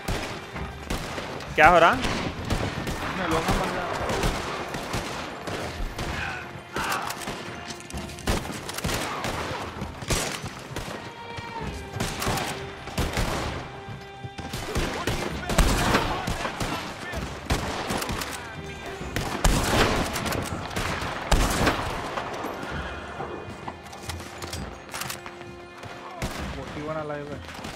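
Gunfire rattles through a shootout in Red Dead Redemption 2, with repeated sharp, close shots and rapid volleys that keep erupting over the whole stretch while someone talks in between.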